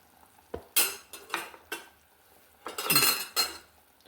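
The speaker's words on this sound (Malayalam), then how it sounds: "ഇതിലേക്ക് നമുക്ക് മീൻ കഷ്ണങ്ങൾ ഇട്ട് കൊടുക്കാം" Fish pieces go one after another into a boiling fish curry in a pan, making several close splashy thuds and utensil clanks with a brief bubbling stir near the end.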